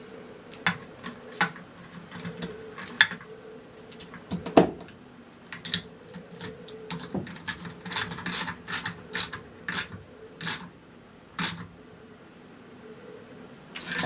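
Metal ratcheting and clicking as a spanner tightens the fan shaft of a 2013 Hoover Purepower vacuum cleaner, the shaft held in mole grips; a close series of short mechanical clicks and taps, irregular, with no talk.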